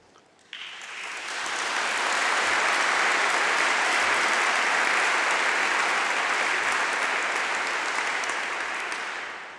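An audience at a formal lecture on immigration breaks into sustained, dense applause that swells quickly, holds steady for several seconds and then begins to taper off.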